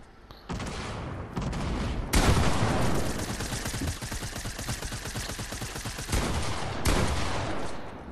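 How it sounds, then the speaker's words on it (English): Rapid automatic gunfire rattles in a video game firefight, dense bursts of loud shots almost continuous from start to end, with brief pauses between volleys. "His team are shooting me from the other side now."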